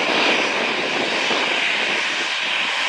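A Thomas Cook jet airliner taxiing at Manchester Airport, its engines giving a steady, loud broadband roar and whine that holds constant throughout with no talk over it.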